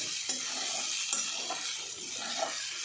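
Sabudana (sago) is stir-fried in a pan with salt, giving a soft continuous sizzle with light scraping and stirring taps up close.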